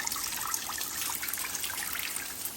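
Coolant splashes and trickles steadily from a disconnected hose on a 2012 Ford F-250/F-350 Super Duty 6.7, a continuous close-up liquid shower with no voices.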